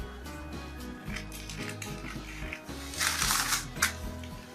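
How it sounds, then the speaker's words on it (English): Scissors cut through fabric for a rose ruffle sleeve, a close series of soft crisp snips and rustling paper-like crunches, with a brighter burst of rustle near the end. "So after then, you are going to cut it out"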